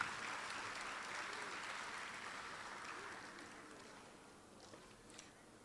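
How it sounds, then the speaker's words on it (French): Audience at a closing ceremony applauding for a dean, a broad sustained patter of many hands that starts fairly strong and slowly thins and fades toward the end. "Applaudissez pour lui,"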